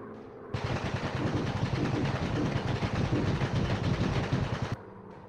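A warplane's machine guns strafe buildings in the VR game Quest 2 War Planes, one sustained loud rapid-fire burst of about four seconds over a steady engine drone, then stopping abruptly.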